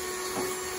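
A KitchenAid stand mixer beats cheesecake filling at a higher speed, giving a brief, steady electric motor hum with a constant whirring tone. No voices are heard.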